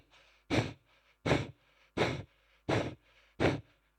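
A voice imitates heavy high-altitude climbing breaths on Everest: five loud, forceful exhalations in an even rhythm, each followed by a short quiet pause, close to the microphone.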